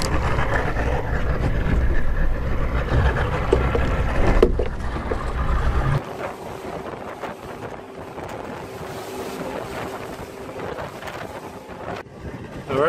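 A fishing boat runs offshore off Key Largo, its engine droning loudly under rushing wind and water hiss, then the roar drops to a quieter, steadier hum halfway through.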